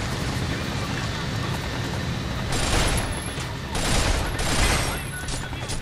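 Assault rifle fire in the robot shooter Binary Domain, bursts of dense crackling shots rising over a steady background roar of game noise, fairly loud and close.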